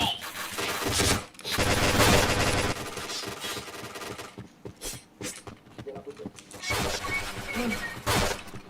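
Gunfire in the shooter game Point Blank comes in rapid, loud automatic bursts with sharp cracks, with short pauses between volleys and a few distinct single shots, while a voice speaks briefly in between.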